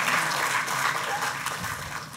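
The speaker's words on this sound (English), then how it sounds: "I think that's just a big round of applause." Audience in an auditorium at a talk event gives a big round of applause honoring a longtime school headmaster, steady loud clapping throughout that eases slightly toward the end.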